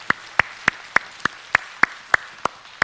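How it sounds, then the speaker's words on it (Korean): A congregation claps in a steady, evenly spaced rhythm during a Sunday morning church service, about ten sharp claps in unison, moderately loud and clear with no talking. "우리 하나님께 영광의 박수 드리겠습니다."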